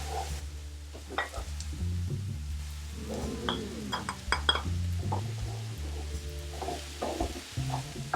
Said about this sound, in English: Let's add in the mushrooms.